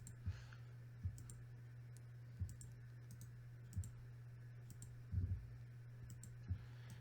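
Computer mouse clicking at a slow, regular pace, roughly one sharp click per second with a quick double click near the end, close and crisp over a low steady hum.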